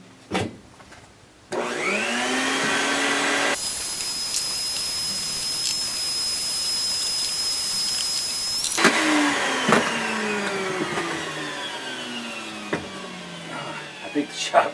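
Jointer planing a board in a home shop, a loud whirring motor roar with a shrill steady whine through the middle section, then winding down with rattles and knocks at the end; a voice talks briefly.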